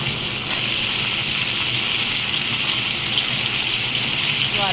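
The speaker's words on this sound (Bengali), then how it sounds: "আলুটা পেঁয়াজের সাথে ভালো করে লাল লাল করে ভেজে নেব" New potatoes fry with onions in a pan, giving a steady, even sizzling hiss that continues unbroken at moderate loudness.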